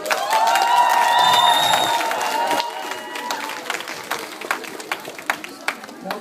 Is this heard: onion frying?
no